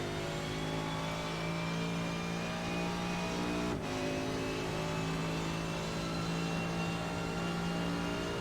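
A race car engine in a racing game, heard onboard during a lap of the Montreal circuit, drones loud and steady at high revs, with one brief dip from a gear shift.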